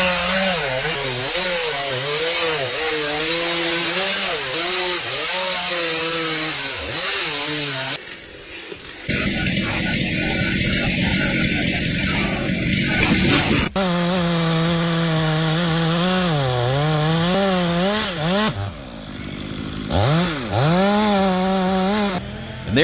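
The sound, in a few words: chainsaw cutting a tree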